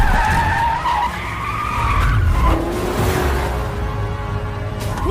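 Tyres skid and squeal loudly during a film car chase, engine roar and whooshing passes running continuously throughout with no talk.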